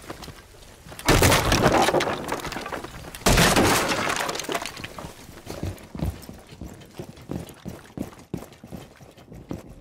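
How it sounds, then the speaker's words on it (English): A wall is smashed open in the video game Rainbow Six Siege: two heavy crashing bursts of breaking debris, followed by a scatter of smaller cracks and crumbling impacts, loud and close. "Gonna smash this wall here."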